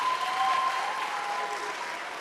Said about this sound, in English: a round of applause for Anne.